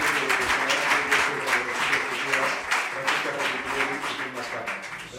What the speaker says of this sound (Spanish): creo que merecen un aplauso, ¿no?